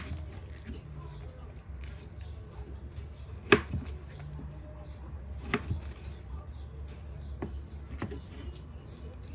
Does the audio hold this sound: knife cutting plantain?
yes